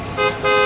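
Two short, bright honks from a vehicle horn ring out close and loud, the second held slightly longer, with no talking.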